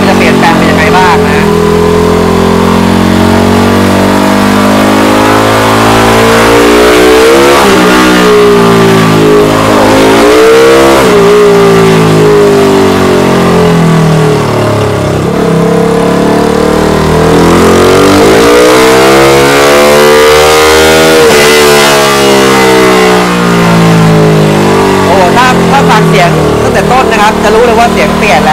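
Honda Wave 125 motorcycle fitted with an aftermarket ECU, engine revving loud and close in repeated rising and falling sweeps, the pitch climbing and dropping over and over for the whole stretch.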